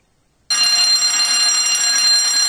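After half a second of silence a fire alarm abruptly starts ringing, a loud, continuous, harsh electronic bell tone that holds steady through the rest of the clip.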